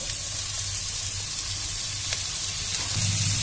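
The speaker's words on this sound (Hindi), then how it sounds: "अब हम डालते हैं वेजिटेबल और हमें अच्छे से फ्राई कर लेते हैं" Vegetables sizzle steadily in hot ghee in a pan, a continuous close crackling fry with a slight swell in intensity near the end, and no voices.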